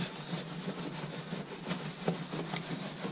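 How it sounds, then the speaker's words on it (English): A brush scrubbing a very dirty, lowered car, giving a steady rhythmic rubbing and scraping with strokes repeating about every half second, close and fairly quiet, no talking. "I can still have enough room to get this brush through and scrub"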